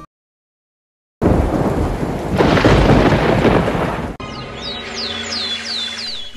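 A cartoon village thunderstorm begins after a second of silence: heavy rain and a loud rolling thunder rumble, then an abrupt shift to steadier rainfall with repeated chirping sweeps layered above it.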